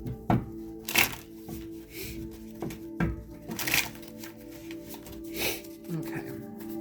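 A deck of tarot cards being shuffled by hand, giving a series of close, crisp riffling and slapping bursts at uneven intervals, with quiet pauses between them.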